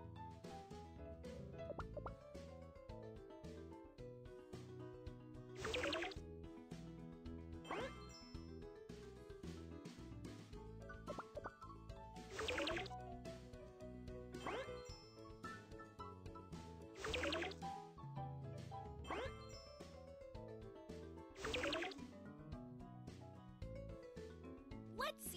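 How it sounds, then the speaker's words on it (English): Cartoon glugging plops as fuel is poured into a fireworks machine in a Baby Panda children's game, repeating in a steady pattern over bouncy background music, quiet overall. "Pour the fuel into the fireworks machine."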